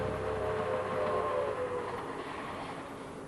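A train runs on rails with a steady rumbling roll, and a brief tonal whine near the start fades away. The sound is close and fairly loud, with no voices.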